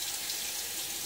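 A water tap runs in a steady close hiss to rinse a Gillette Aristocrat safety razor at a sink, a brief continuous stream with no voices over it.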